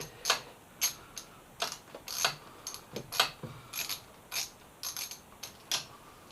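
Ratchet wrench clicking as it works 10mm bolts on a Yamaha FZ6R handlebar, a quick series of close, crisp ticks and short bursts with small pauses in a quiet setting, no talking.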